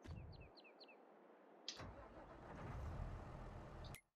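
A tractor in the video game Farming Simulator 22 starts up with a sharp click and settles into a steady, moderate engine drone, following a few seconds of faint ambient birdsong and a low idle hum.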